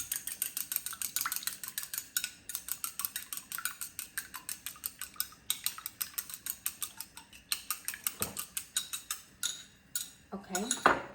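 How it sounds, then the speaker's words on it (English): Chopsticks beat eggs in a bowl with a fast, steady run of sharp clicking taps for about ten seconds, close and fairly loud, with a brief pause and a short voice near the end. "beat the eggs"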